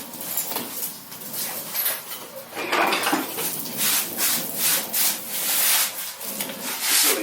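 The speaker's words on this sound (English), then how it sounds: "let's compress the brake." On a 2018 Jeep Wrangler JL, someone presses in the rear brake caliper piston. The sound is a rhythmic series of close scraping, rubbing strokes at moderate loudness, with no speech.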